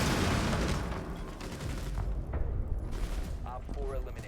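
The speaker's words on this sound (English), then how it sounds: "Throwing frag grenade. Sir, I threw a nade!" A frag grenade explodes in Rainbow Six Siege with a loud, heavy boom at the start, then a rumbling, crackling tail that slowly decays under faint game sounds.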